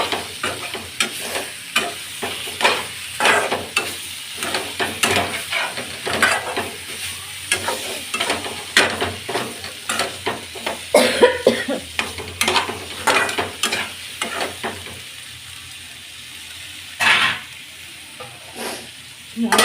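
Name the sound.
tempering sizzling in a frying pan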